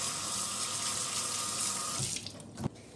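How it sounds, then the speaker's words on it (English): Water runs steadily from a sink tap for hands being washed and scrubbed, a continuous broadband rush that stops near the end with a brief splash. "So first what you want to do is wash your hands."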